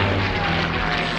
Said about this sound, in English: I got the latest model P-51 here